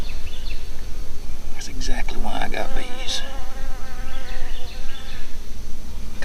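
Honeybees buzzing around blooming cucumber and squash plants in a backyard vegetable garden, a steady insect drone with a few louder passes close by, a person talking over it.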